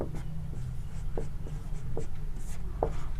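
A pen writes during a maths lesson: steady light scratching with several short strokes and taps, close, over a constant low background hum and with no talking.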